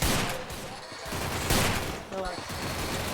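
Rapid bursts of gunfire in a 4v4 online shooter match crackle loudly through the whole stretch, with shots layered over a busy, noisy background.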